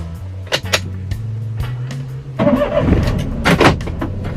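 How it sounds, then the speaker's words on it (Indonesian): A manual car's engine is started: a low steady hum gives way partway through to a loud, rough burst as the engine catches and runs unevenly, close and with no talking. "Kita nyalakan mesinnya dulu"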